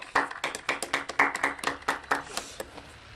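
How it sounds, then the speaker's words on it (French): Small audience at a parody Olympic medal ceremony clapping in quick, distinct rhythmic beats, fairly close and brief, with no talking over it. "On applaudit bien fort."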